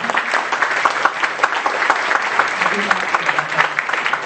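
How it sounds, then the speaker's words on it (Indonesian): A church congregation standing to applaud during a Sunday service, loud continuous clapping with a brisk, steady rhythm, a voice briefly audible underneath. "kita berikan tepuk tangan yang luar biasa untuk Kak Budi Setiawan"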